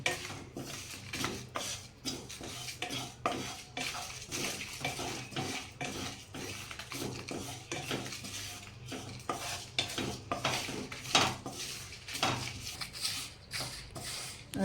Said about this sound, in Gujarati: આ બધું આપણે ધીમા તાપે શેકી લઈએ